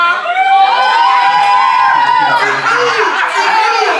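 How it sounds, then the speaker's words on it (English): A crowd of party guests at a karaoke and games night cheers and shouts for a team, with loud overlapping voices, whoops and laughter close by. "Can we all cheer the Team Blue?"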